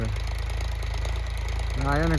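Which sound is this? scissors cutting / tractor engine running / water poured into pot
tractor engine running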